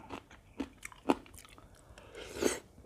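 Someone eating a Thai papaya salad with crispy fish, close crunchy bites and chewing in a few distinct bursts, fairly quiet.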